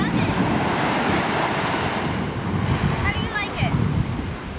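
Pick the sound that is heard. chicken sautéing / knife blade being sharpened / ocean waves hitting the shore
ocean waves hitting the shore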